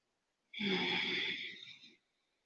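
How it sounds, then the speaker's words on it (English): A single long Ujjayi yoga exhale through a lightly constricted throat, making a steady, breathy hiss close to the microphone that lasts about a second and a half and then fades to silence. "we lightly constrict the throat around the epiglottis, and that makes a slight noise, a slight hissing noise"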